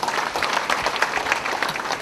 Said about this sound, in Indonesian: tepuk tangan untuk jawaban Ajahn Brahm